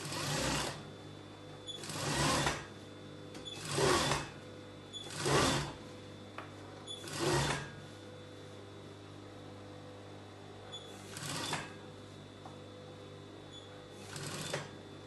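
A domestic sewing machine stitches a square-neck circle skater dress in bursts, about seven short runs of rapid whirring separated by quiet pauses, close and moderately loud with no talk.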